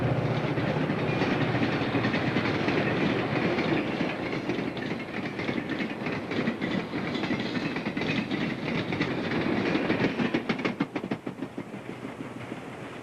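A Lehigh Valley freight train rumbles past a railway signal near Stafford, New York, a loud continuous roar with rapid clickety-clack of wheels over rail joints, intensifying toward the end before easing off.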